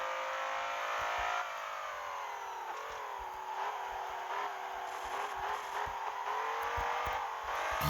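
A modified BMW M5 driving laps of a circle course in Assoluto Racing, its engine droning steadily with rising and falling pitch as it accelerates and shifts, with faint tire and chassis clicks underneath.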